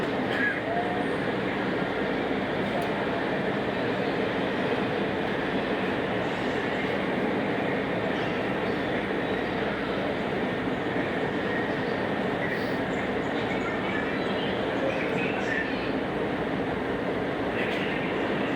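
Steady interior rumble of a WMATA 6000 series Alstom Yellow Line metro car in motion, a continuous broadband roar with faint wheel and rail noise throughout, loud and even from start to finish.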